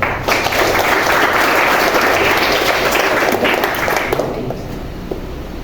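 A school class applauding in an Indonesian classroom, a loud continuous burst of many students clapping together that thins and fades slightly toward the end.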